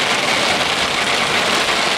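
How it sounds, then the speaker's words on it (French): Heavy rain drums steadily on a car's roof and windows, a constant dense hiss with a faint low engine hum underneath. "Oh là là, et cette pluie qui n'arrête pas là"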